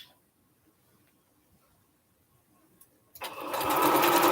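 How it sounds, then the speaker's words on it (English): A sewing machine stitches long fabric strips for a Triple Irish Chain quilt, starting up loud and close after a few seconds of near silence and running steadily to the end. "especially when sewing long strips like this one"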